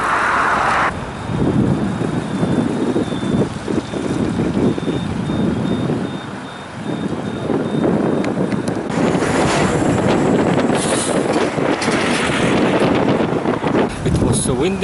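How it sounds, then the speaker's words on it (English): Strong wind on a bridge buffets the microphone in loud, continuous gusts, with a roaring rush throughout and a brief dip before rising again. "So windy on the second bridge that I almost lost my cap."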